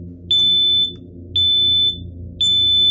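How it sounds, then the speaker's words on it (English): A smoke alarm sounds three sharp, piercing electronic beeps, each about half a second long and evenly spaced, over a faint low hum. "the smoke alarm wailed"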